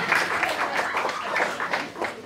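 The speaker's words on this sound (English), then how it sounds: "give a round of applause for Vision Quest" A live audience applauds for a performer, a steady dense patter of many hands clapping throughout, fairly loud and close, with faint voices mixed in.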